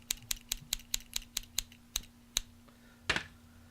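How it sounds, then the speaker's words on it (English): Scissors snip in a quick run of about a dozen crisp, close metallic cuts, evenly spaced at first and then slowing, marking a celebratory moment with a steady low hum beneath. "Let's get the scissors."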